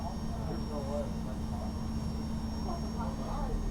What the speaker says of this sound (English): So now we can fire up engine number 1.